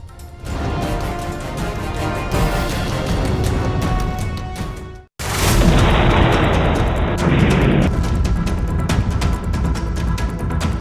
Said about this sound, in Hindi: सबसे बड़ा धमाका।